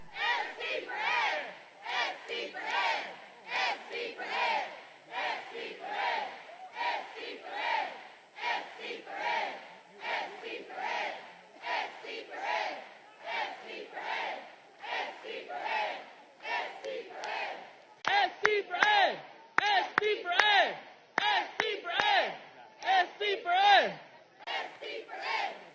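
A crowd of teachers at a rally cheering and shouting in loud, sustained waves of voices, continuing for the full stretch with rhythmic bursts of yelling and no single speaker standing out.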